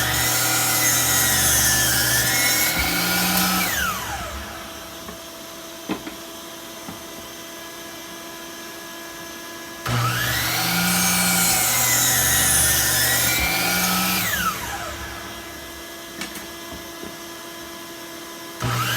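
A Ridgid R4231 12-inch compound miter saw cuts wood with a shop vac running, making two loud whining bursts of about five seconds each. The blade winds down after each cut, and quieter pauses fall between them.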